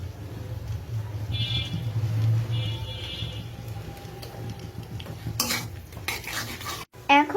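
Cubed onion, ginger-garlic paste and vegetables stir-fried for cabbage manchurian: continuous scraping of a utensil against the pan with a low sizzle underneath, then a few louder clatters near the end.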